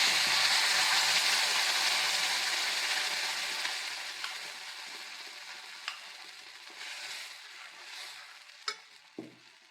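Coconut masala paste goes into a pan for Goan pomfret curry, giving a soft steady sizzle and stirring that slowly fades, with a few sharp clinks of a spoon against the pan near the end.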